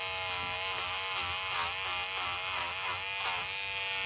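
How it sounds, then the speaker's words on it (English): An electric stitch eraser cuts knockdown stitching from sherpa fabric backed with cutaway stabilizer. It makes a steady, close, high buzzing drone with a slight wavering as it moves, and no talk is heard. "So I'm going to start with my stitch eraser"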